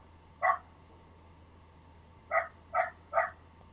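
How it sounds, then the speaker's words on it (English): A small yappy dog barks nearby, first a single yap, then a quick burst of three sharp yaps after a pause, over a quiet low hum. "oh yappy little dog"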